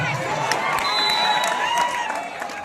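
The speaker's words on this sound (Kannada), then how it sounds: "ಜೋರ ಚಪ್ಪಾಳೆ ಬರಲಿ" A crowd at a village kabaddi match cheers, shouts and claps, a dense continuous roar with scattered whoops and children's shouts, fairly loud throughout.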